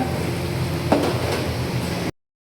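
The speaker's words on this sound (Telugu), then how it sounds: "ఫస్ట్ ఉల్లిపాయలు ఇలా వేయించాలా, ఫుల్గా ఆయిల్ దంచడి వేళ" Onions frying in plenty of oil for chicken dum biryani, a steady close sizzle and crackle with a single clink of a utensil against the pan partway through.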